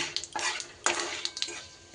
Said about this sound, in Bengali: ফোড়ন খুব সুন্দর করে ভাজা হয়ে গেছে